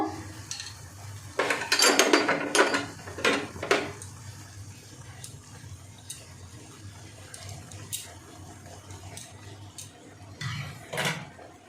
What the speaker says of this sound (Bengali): এবার আমি ডিমগুলো দিয়ে দেব।